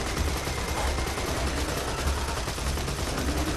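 Dense rapid gunfire fills a Borderlands 2 firefight, continuous overlapping shots and bursts at high volume with no pauses.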